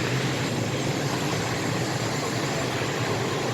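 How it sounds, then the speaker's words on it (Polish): Inside a Polish train carriage near Gdynia, carrying a passenger with a bicycle, a steady broadband rumble and rushing noise fills the car evenly from start to finish, loud and unbroken, with no speech. "Jestem już w pociągu i rowerek."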